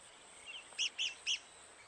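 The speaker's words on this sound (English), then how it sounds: "The rare red cockaded woodpecker lives in this loblolly pine." A rare red-cockaded woodpecker in a loblolly pine on a military training ground gives three sharp, high chirping calls at an even pace, fairly faint over quiet background hiss.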